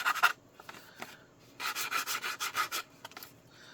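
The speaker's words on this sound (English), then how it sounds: "I'm going to do some little bit of sanding" Short bursts of scratchy sanding along paper card edges, a quick stroke first, then a run of rhythmic back-and-forth rubs, close up with brief pauses between passes.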